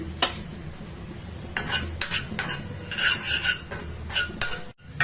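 A spoon scrapes and clinks against a dry pan while sesame seeds roast without oil, in short bursts of stirring separated by brief pauses, close and clear.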